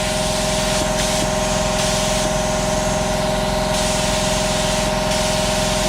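A spray gun lays down a fine mist of thinned lacquer paint on a car, a steady hissing spray over a constant low compressor or motor hum, with brief pauses and restarts in the hiss.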